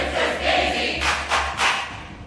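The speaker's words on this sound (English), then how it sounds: "the clip will actually just include the crowd cheering the name 3 times" A Super Smash Bros. crowd cheers a fighter's name three times in a row, rhythmic chanted bursts from a large audience over a steady low hum.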